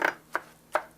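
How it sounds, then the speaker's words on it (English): A knife dicing eggplant on a cutting board, three crisp, close chops in quick succession over a quiet background. "So I'm going to dice that eggplant and add it, of course, to our mixture"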